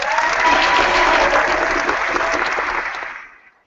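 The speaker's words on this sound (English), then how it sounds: "You don't have to clap hands." Audience applause at a mathematics didactics gathering: dense, steady clapping from a room full of people, loud and continuous, then fading out over the last half second.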